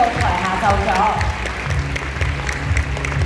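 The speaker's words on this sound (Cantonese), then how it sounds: "大家再以一次熱烈嘅掌聲，多謝晒兩位" An audience claps warmly at a celebrity sharing event in Hong Kong, a sustained round of applause that rises and fades under a host's amplified voice.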